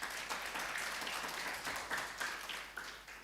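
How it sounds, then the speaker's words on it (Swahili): A church congregation claps and cheers in praise during a Swahili-language worship service, a steady, fairly distant wash of applause with a few sharper claps and no speech over it. "Tumpigie Bwana shangwe."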